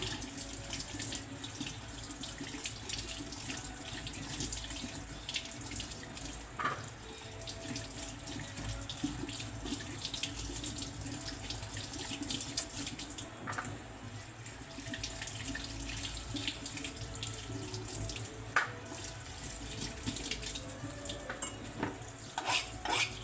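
Tap water runs steadily into a sink as vegetables are washed for Filipino atchara pickle, a continuous close splashing stream with occasional soft clunks, heard alone.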